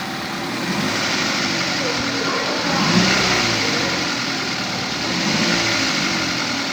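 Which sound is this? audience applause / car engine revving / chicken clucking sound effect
car engine revving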